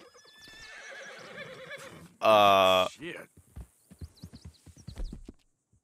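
A horse in Red Dead Redemption lets out a loud, drawn-out neigh, with clopping hooves and a snort around it, while someone talks before and after.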